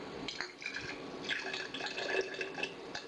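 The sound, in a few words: pouring apple cider vinegar into container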